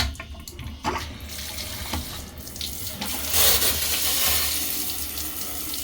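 Tap water gushes steadily into a sink to rinse a dirty vacuum cleaner filter, a close, continuous splashing stream that swells louder partway through.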